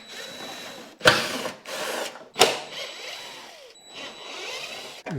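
A power tool backs out 7/16 bolts holding the plastic housing on a Craftsman snowblower, in three or four loud whirring bursts of a second or so each, separated by short pauses.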